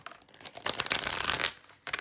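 Tarot cards being shuffled by hand during a pick-a-card reading: soft papery riffling and rustling that swells into a dense, louder burst in the middle, then a brief flutter at the end, with no voice.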